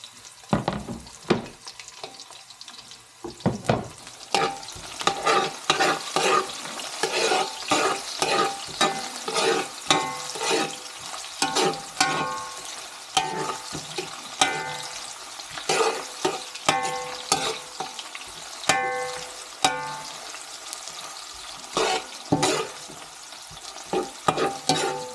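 Onions being stir-fried in a pan for beef caldereta: a soft sizzle runs throughout while a spatula makes repeated, rhythmic scraping strokes across the pan, close and moderately loud.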